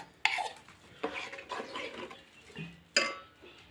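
Banana malpua batter is stirred in an open pot: a spoon scrapes and clinks against the metal sides in irregular strokes, with a few sharper knocks, close and fairly quiet.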